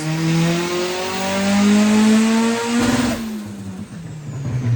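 A turbocharged Mazda Miata engine revs hard on a dyno in a full pull, its loud, steady tone climbing before it cuts off abruptly and drops to a lower idle.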